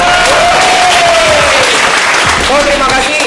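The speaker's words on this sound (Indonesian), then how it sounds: "Kita tepuk tangan untuk narsum kita." Audience at an Indonesian event applauding the speakers, loud sustained clapping with a host's voice calling out over it.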